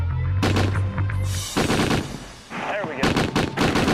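Rapid bursts of a warship's deck gun firing at a target, several loud sharp volleys in quick succession with pauses between, while someone speaks briefly.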